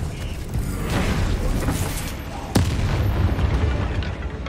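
A Confringo spell explosion in the video game Hogwarts Legacy, fired inside a spider-filled cavern, gives one sharp blast midway through a dense, rumbling bed of game combat noise.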